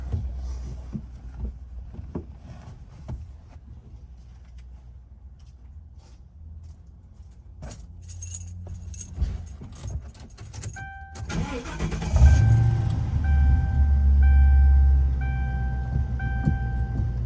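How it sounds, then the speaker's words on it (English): A 2007 Ford Crown Victoria is started with its keys partway through, after a long quiet stretch of faint knocks. The engine turns over loudly and settles into a steady, close idle. "Okay, turn on the car, see what happens."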